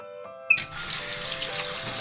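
A sink faucet opens with a thump and water then pours steadily and close for handwashing during a kids' baking session.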